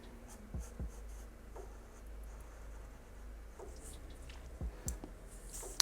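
Pencil scratching across paper while sketching an anime character's face, a steady soft graphite rasp with a few sharper clicks and taps as the lead lifts and lands, close and alone with no talking.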